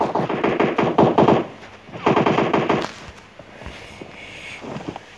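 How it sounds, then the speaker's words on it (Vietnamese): Rapid automatic gunfire in PUBG Mobile on the Sanhok map, two loud sustained bursts followed by sparser, fainter distant shots. "Nó bắn mình ở đâu vậy ta?"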